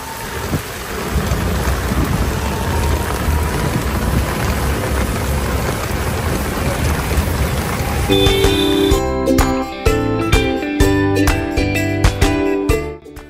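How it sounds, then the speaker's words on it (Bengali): A loud, steady downpour roars close by with no letup, joined near the end by sustained tonal notes and sharp clicks. "আর ট্রেন থেকে নামার পরেই ঝুম বৃষ্টি"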